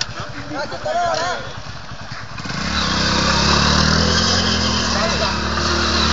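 A motorcycle engine revs up and runs steadily after a few seconds of people talking nearby outdoors while others lift the bike, the loud engine drone then dominating.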